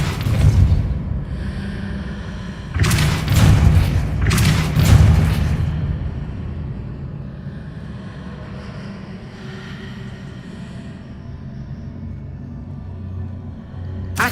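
Depulso force spell cast in the Hogwarts Legacy game, a few booming thuds with whooshing bursts in quick succession early on, then a low rumbling ambient drone fading into quieter background.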